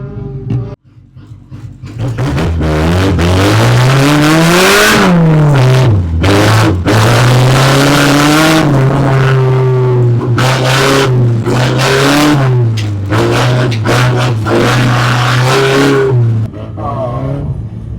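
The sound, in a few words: Honda EK Civic rally car engine revving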